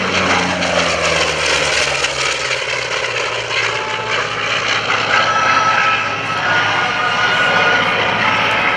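An F4U Corsair's propeller engine drones loud and steady at an airshow open house, a continuous rough mechanical roar that holds at close range throughout.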